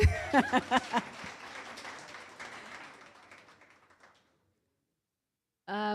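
A short burst of applause from a small group at a university book launch starts strong, then thins and fades to silence, with a voice cutting in at the end.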